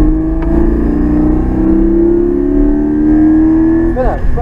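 A Porsche Cayman GT4 accelerating on a race track, its engine droning loudly and steadily rising in pitch from inside the car, with a brief rasping burst near the end, no speech.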